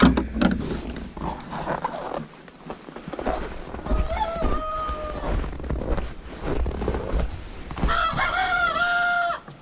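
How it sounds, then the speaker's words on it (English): A rooster crows in the morning outdoors, giving two drawn-out calls a few seconds apart over a bed of clucking fowl and faint mechanical clatter, fairly close and loud. "Just one of you crowing this morning?"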